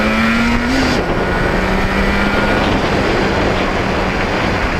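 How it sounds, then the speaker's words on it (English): Yamaha RD 400 two-stroke motorcycle fitted with new Mikuni carbs, revving hard through the gears at full RPM, a loud steady engine drone with a pitch drop at a gear change, close and continuous. "it went right through the gears, full RPM"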